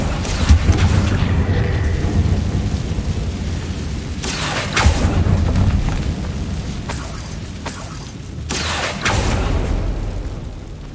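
An Incendio fire spell is cast in Hogwarts Legacy, a series of loud whooshing bursts and booming flares that rise and fall over several seconds, with repeated blasts roughly every few seconds.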